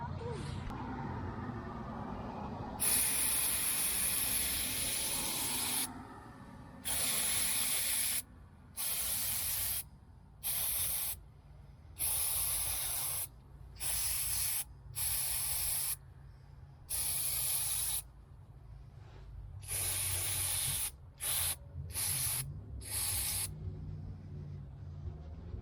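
Brake cleaner sprayed onto the MAF sensor of a Porsche Cayenne 955 with a 3.2-liter gasoline engine, a loud hissing aerosol coming in a dozen or so short bursts of varying length, separated by brief pauses, with no talking.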